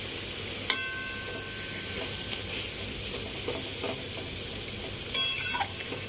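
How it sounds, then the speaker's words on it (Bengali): Chicken is sautéed and stirred in oil in a wok, giving a soft, continuous sizzle with occasional light scrapes and clinks from the stirring. "দেখুন মাংসটা কষতে কষতে তেল ছেড়ে দিয়েছে পুরো মাংসটাকে"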